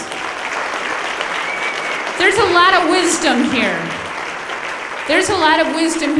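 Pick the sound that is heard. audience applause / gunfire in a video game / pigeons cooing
audience applause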